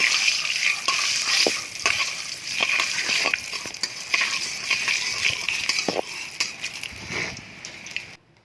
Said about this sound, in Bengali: এখন আমি কাঁকড়াগুলোকে মিনিট 2 ধরে ভালো করে ভেজে নেব।